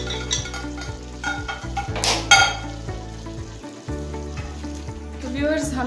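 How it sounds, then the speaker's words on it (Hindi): Taro root (arbi) sizzles and fries in a pan for an arvi gosht curry, a steady crackling hiss punctuated by occasional stirring and clinks of a utensil against the pan. "5 से 7 मिनट हमने इसको फ्राई करना है।"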